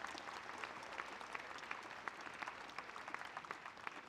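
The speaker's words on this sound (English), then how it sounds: "Please give the staff a round of applause" Audience at the Options High School Class of 2023 graduation applauds the school staff, a steady, dense wash of clapping from a large crowd that holds evenly throughout.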